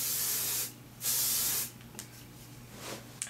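Hairspray from an aerosol can hisses onto freshly curled, still-hot hair in two loud close bursts, each about half a second, followed by a few fainter short puffs.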